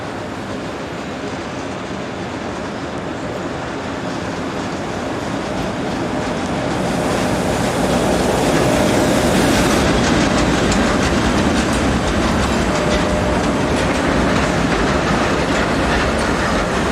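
A northbound freight train hauled by two locomotives rolls into Erstfeld station in Switzerland, a loud, continuous rumble and clatter of wheels on rails that swells and holds steady at close range, without voices.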